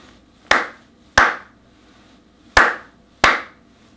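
Four sharp hand claps in a simple rhythm, two close pairs separated by a pause, crisp and near in a quiet room during a keyboard theory lesson.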